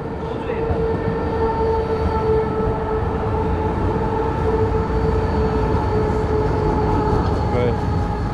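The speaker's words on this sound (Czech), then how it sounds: "Z Linského cesta, kde chodia občas električky. Ako napríklad táto." A tram rolls along an evening street in Linz, a loud steady rumble with a sustained whining tone and rail noise close by, continuous for several seconds.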